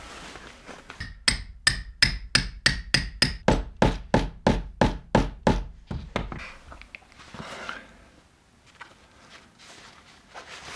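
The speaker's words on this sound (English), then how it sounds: "I'll set some rivets." About fourteen sharp hammer blows in a steady rhythm set rivets on a homemade backpack made from a sofa cover and old seatbelt, loud and close, followed by quieter handling noises.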